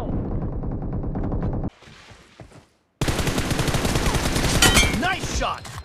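Gunfire in the mobile battle royale game PUBG Mobile: loud, close bursts of rapid automatic shots, a brief quiet gap, then another dense stretch of fire with a sharp edge.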